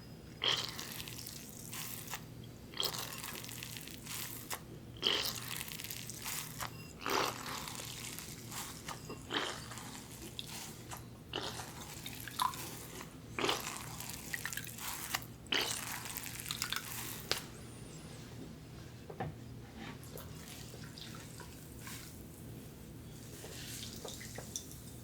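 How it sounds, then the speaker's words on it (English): Water drips and splashes softly and close in a quiet ASMR roleplay set at a recovery treatment center, with irregular small splashes and trickles repeating steadily over a faint continuous hum. "It's just water."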